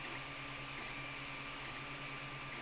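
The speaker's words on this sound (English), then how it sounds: "here it is printing now" An Ender 3 3D printer runs a print of an articulated quetzalcoatl, giving a steady, faint mechanical whir with soft stepper-motor tones humming continuously, with no voices.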